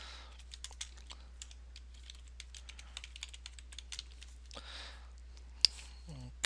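Keys tapped on a computer keyboard while an email address and password are entered, a quiet run of irregular soft clicks with short pauses and a brief louder tap near the end.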